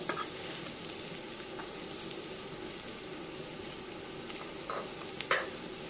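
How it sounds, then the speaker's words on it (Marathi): Alu vadi, colocasia leaf rolls, shallow frying in a pan of oil, giving a steady close sizzle with light crackles and a couple of louder spatters near the end, no voices. "आणि हे आता आपण असे परतून घेऊया। मस्त फ्राय होत आहे।"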